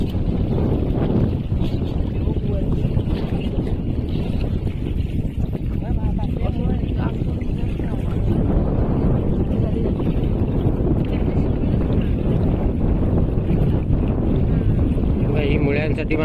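A small rowboat moving along a tidal creek in the Konkan region, used by people gathering roots, gives a steady water-and-wind rush throughout, with voices talking over it.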